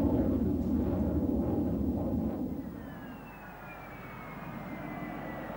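Tigershark jet fighter engine roaring, a broad loud rumble that eases off midway while a thin rising whine from the powerful engine drifts over the steady roar.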